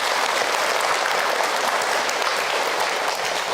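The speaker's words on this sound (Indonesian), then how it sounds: "Tepuk tangan buat Bunda semua yang ada." Audience applause at an Islamic religious talk for mothers, a dense, steady clapping wash that fills the short stretch evenly at close, loud level with no talk over it.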